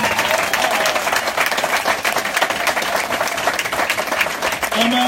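A church congregation bursts into loud, sustained applause, dense continuous clapping with a few crowd voices mixed in.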